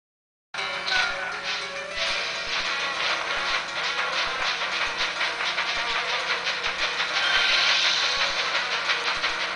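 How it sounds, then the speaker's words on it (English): A video game train in The Legend of Zelda: Spirit Tracks rumbles and clatters steadily with rhythmic clickety-clack, loud and continuous, growing slightly louder toward the end. "the train is headed towards me right now."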